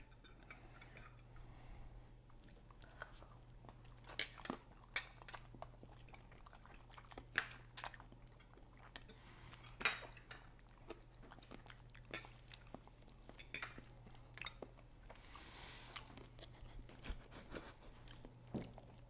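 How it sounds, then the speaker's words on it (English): Quiet, close crunching of someone chewing food, irregular crisp clicks and snaps repeating over a low steady hum. "I can hear you crunching"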